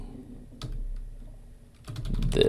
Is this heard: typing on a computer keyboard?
yes